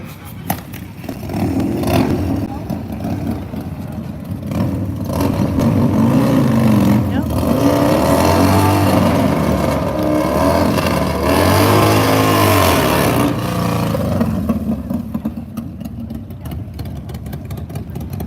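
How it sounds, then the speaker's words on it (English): A drag racing motorcycle does a burnout at the Michigan Nitro Nationals AMRA event, its engine revving and screaming in rising and falling sweeps, loud and fairly close, with a voice talking over it at times. "Gonna have a burnout."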